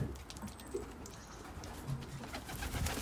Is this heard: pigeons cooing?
yes